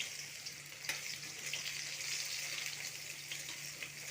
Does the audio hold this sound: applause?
no